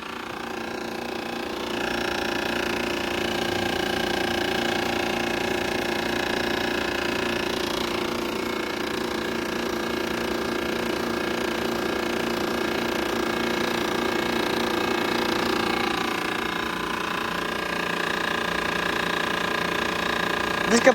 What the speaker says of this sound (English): This compressor is probably out as well.